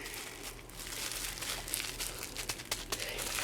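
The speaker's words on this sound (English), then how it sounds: "Need a little bit of bubble wrap. And I'm just going to fold that." Bubble wrap being folded by hand: brief close crinkling and crackling plastic rustles, quiet and without talking.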